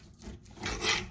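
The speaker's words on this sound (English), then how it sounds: "Now we are going to cut this sucker in about 4 pieces." A knife saws and rubs through a chunk of meat being cut into pieces for pozole, one short close scraping stroke that swells toward the end.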